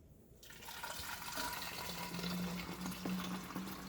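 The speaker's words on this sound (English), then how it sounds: "I'm going to put in a bottle and put in the refrigerator." Freshly squeezed celery juice being poured into a bottle, a steady close liquid stream and gurgle rising in pitch as the bottle fills, with no talking.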